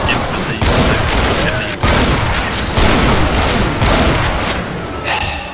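Heavy, sustained gunfire in the Project Brutality mod of Doom, fired at an imp, rattles in dense repeated bursts with booming shots, loud and close, with only brief gaps between volleys.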